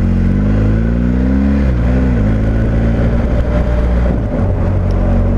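A BMW 1250 GS motorcycle engine drops through gears with a quickshifter. A loud, close, steady roar steps down in pitch over a few seconds under wind noise, with no talking.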